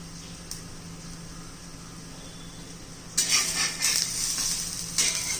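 A poha thalipith flatbread with sesame seeds roasts crisp on a pan, faint at first, then a louder hiss and crackle of sizzling swells up in bursts near the end.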